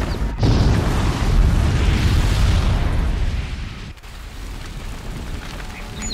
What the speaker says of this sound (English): Oh, explosion.